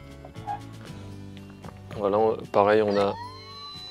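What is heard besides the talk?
toy fire truck siren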